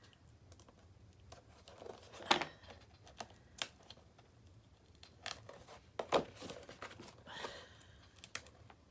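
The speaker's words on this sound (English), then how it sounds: "It is quite strong, is this cellophane. It doesn't like pulling off easily." Cellophane backing being peeled off a purse bag craft kit, coming away in sharp, scattered crinkles and tearing rips over several seconds, close and otherwise quiet.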